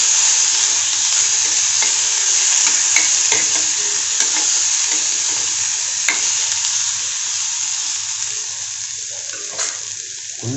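Broken wheat daliya cooking in a pan while being stirred, a steady soft sizzle and bubbling with faint scraping of the spoon, close and continuous throughout with no talk.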